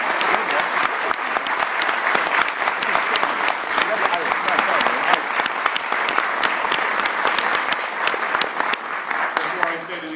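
An audience at a premiere panel discussion held at the Paley Center claps continuously for about ten seconds, a thick, even wash of many hands with crisp individual claps sparkling through and no break in the sound.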